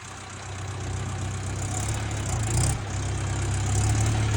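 A tractor engine runs steadily and loudly at close range while reversing, with a low droning rumble that swells slightly partway through.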